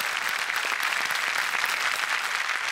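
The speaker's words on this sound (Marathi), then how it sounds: "सगळ्या पोलिसांसाठी, जवानांसाठी एकदा जोरदार टाळ्या झाल्या पाहिजेत." Audience applause for police officers and soldiers on a Marathi comedy stage show, with dense, steady clapping from a large crowd that holds loud and even throughout, with no voices over it.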